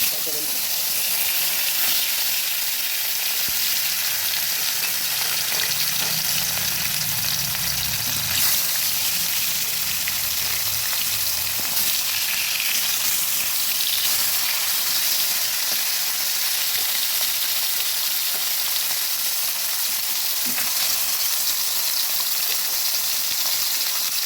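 Katla fish pieces rubbed with salt and turmeric fry in hot oil in a wok, giving a loud, continuous, hissing sizzle that holds steady for the whole stretch.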